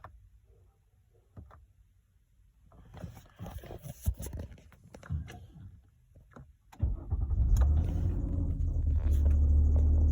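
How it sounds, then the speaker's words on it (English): A 2009–2015 Nissan Maxima 3.5L V6 engine idles, then revs up into a steady loud roar with a high thin squeal from a worn belt riding on top, after some clicks and handling noises. "I need to change the belt in this, so the belt is a little squealing"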